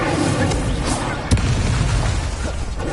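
A fiery Incendio spell blast from the Hogwarts Legacy video game on PS5, a sharp booming burst near the middle over a dense, steady bed of game noise and rumble.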